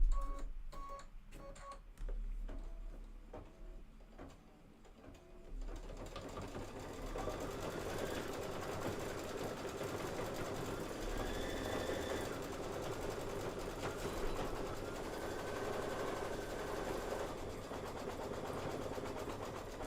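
An embroidery sewing machine stitches out blue thread, starting with a few clicks and then settling into a fast, steady mechanical whir and rattle that runs continuously at moderate volume.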